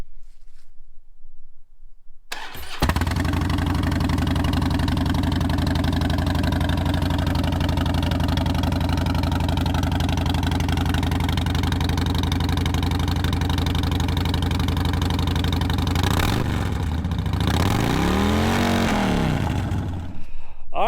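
A 2009 Harley-Davidson Fat Bob V-twin starts up after a brief quiet, then idles loud and steady close by with a deep even throb, followed by a short rev and fall near the end.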